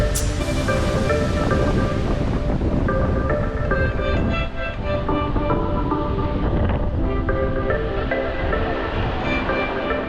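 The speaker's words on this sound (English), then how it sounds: "It's very windy out. Woo! Kind of neat to see the wind just whipping across here" Strong wind blows across a sandy beach in St. Pete, Florida, roaring steadily and loudly into the microphone for the full stretch, with the rush of surf mixed in and no talk.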